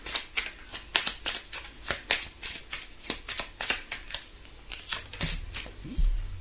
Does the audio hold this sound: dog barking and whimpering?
no